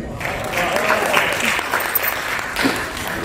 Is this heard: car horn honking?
no